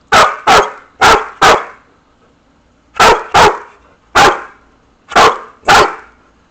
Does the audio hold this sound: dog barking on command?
yes